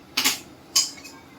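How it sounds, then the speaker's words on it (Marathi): A gas stove under a kadhai being lit: two sharp clicking ticks of the igniter, the second followed by a brief soft whoosh as the flame catches, close and clear with no talking. "आपण गॅस पेटवतो आहोत."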